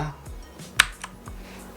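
A Vortex VX7 TKL mechanical gaming keyboard gives a few scattered key presses, one sharp close click standing out among softer taps, with no talking.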